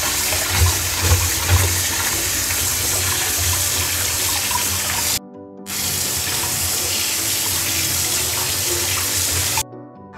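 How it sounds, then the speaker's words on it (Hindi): Water runs from a kitchen tap over a peeled eggplant being washed, a steady loud splashing gush that briefly cuts off twice, with no voices. "अच्छे से इसको छील लिए और इसको अच्छे तरह से धो के साफ कर लेंगे।"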